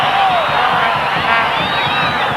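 Large football stadium crowd at the 1991 Copa America match between Chile and Brazil, a dense steady roar of many voices with whistles and shouts, loud and continuous.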